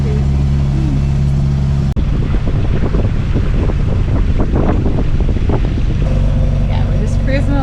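Wind buffets a microphone aboard a sailboat cruising along in Alaska, a loud continuous low rumble with water wash beneath, while a person talks over it.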